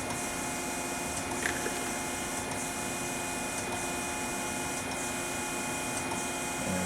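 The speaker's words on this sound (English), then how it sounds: "This is a traverse grind." An Okamoto ACC-6.18DX3 reciprocating surface grinder running a traverse grind, giving a steady mechanical hum with tonal whine and faint rhythmic ticks from the table reversing at regular intervals.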